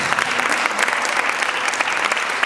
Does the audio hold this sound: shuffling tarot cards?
no